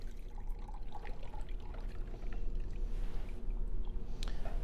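Fresh lemon juice is poured over thyme in a jar, a soft, close trickle and splash of liquid running steadily for several seconds with no talking.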